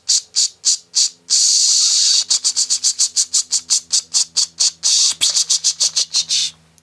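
A voice imitates a rattlesnake's warning with sharp, rhythmic hissing bursts, close and loud, including one long sustained hiss among rapid repeated pulses.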